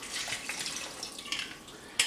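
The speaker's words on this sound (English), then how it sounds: "Add some more water to make sure everything gets covered." Water pours steadily into a cooking pot holding cilantro and bay leaves, a continuous close splashing hiss with a brief sharper splash near the end, no voices.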